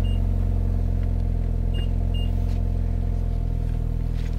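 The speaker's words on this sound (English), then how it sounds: "A simple hit of the lock button 3 times, it'll start right up for you." A 2019 BMW 330i, a G20 3 Series in Portimao Blue Metallic, idles steadily after a cold remote start triggered from the key fob, a constant low engine rumble with a few faint high beeps over it and no talking.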